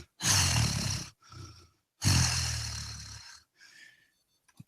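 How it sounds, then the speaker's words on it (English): Orn, a wolf, growls in two long, low rumbling bursts, each followed by a softer trailing breath, close and fairly loud with no other sound around. "We hear him growling."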